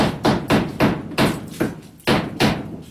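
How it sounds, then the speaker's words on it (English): A hammer drives nails into the bottom lip of greenhouse covering material, eight or so sharp, evenly spaced blows ringing out loud and close with no talk. "I'm going along the bottom and nailing in the bottom lip of my material here."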